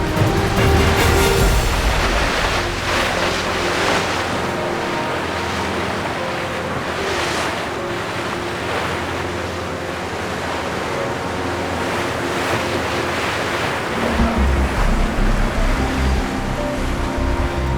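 Wind and ocean waves rush loudly and steadily around racing sailboats during a yacht race week off Newport, with constant wind buffeting, water slapping against the hulls and no voices.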